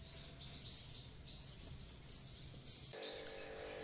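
Captive sunbirds give high, thin chirping calls repeated irregularly over several seconds, fairly close, with a faint background hum and no talking.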